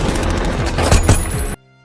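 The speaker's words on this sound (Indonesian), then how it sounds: "Dan aksi tembak-tembakan pun terjadi." Rapid gunfire in a film shootout scene, a loud burst of automatic shots and booms rattling for about a second and a half before cutting off abruptly.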